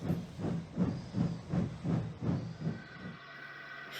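Steady rhythmic chuffing of a steam locomotive, about eight regular puffs, then a softer lingering hiss as the puffing stops.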